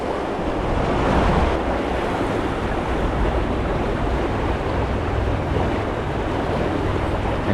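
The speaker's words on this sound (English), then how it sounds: "I'm in really fast water right now" Fast-flowing water on the Weber River, heard while fly fishing, a loud continuous rush and roar close to the microphone with wind buffeting mixed in, steady throughout and no voices.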